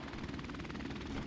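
A helicopter in Call of Duty Modern Warfare Remastered, a steady pulsing rotor chop with engine whine, continuous and fairly close, heard briefly with no talk.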